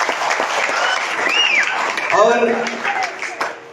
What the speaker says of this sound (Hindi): एक ताली बजाएंगे